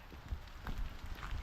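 Steady rain patters around a person walking outdoors in Lewiston, Maine, with a continuous broadband hiss of falling drops and soft low rumble, fairly close and even throughout, no talking.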